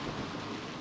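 Rain falls steadily as a faint, dense wash with a low rumble beneath it, heard briefly alone.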